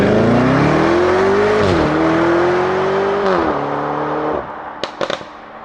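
A Lamborghini Urus SUV engine revs loud and close, rising in pitch through two gear shifts with brief dips. It then settles to a lower idle, and sharp crackles and pops from the exhaust follow.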